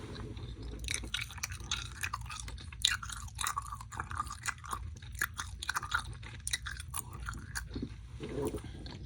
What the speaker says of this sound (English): I have a piece of chewing gum and I'm gonna chew it in both of your ears.